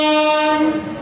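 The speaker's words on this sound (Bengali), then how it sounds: "এই ভারতীয় রেলের মালগাড়ি যাচ্ছে" An Indian Railways freight train's horn blares loudly and steadily, its pitch slightly shifting as it sounds, with rumbling rail noise beneath.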